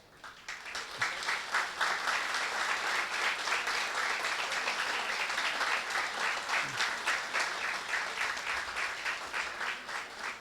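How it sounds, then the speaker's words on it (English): An audience at an international student gathering stands and claps together, the applause building quickly and then staying steady and rhythmic, moderately distant, across the whole span. "All of you, would all of you stand up and put your hands together,"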